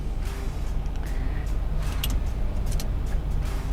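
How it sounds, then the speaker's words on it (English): A 1966 Chevrolet Corvette running steadily, a continuous low engine rumble heard fairly close, with a few faint clicks and background noise and no talking. "So anyway, just the car starts and runs nice."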